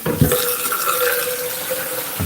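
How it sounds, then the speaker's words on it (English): Water runs from a kitchen tap into a container in a steady, close, continuous splash with no pauses. "I'm catching some water"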